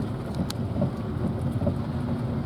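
Steady pouring rain drums on a Toyota truck while it bogs, a dense continuous wash with a low rumble beneath and no talking.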